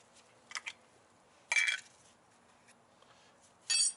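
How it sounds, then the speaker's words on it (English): A metal garage spoon clinks against a glass while scooping rust-prevention product, giving a few short, bright chinks and scrapes at close range, with quiet pauses between them. "I take a spoon, a garage designated spoon, and I just put some of the product in the glass"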